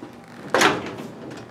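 The door of a 1935 Ford truck being opened in a workshop, a single sharp metallic clunk and rushing swing that fades over about a second, close and fairly loud with no talking.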